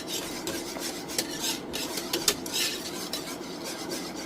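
Homemade chocolate syrup mixture being stirred in a pot until smooth, a steady scraping and swishing of a utensil against the pan, close and moderately loud, with no talk.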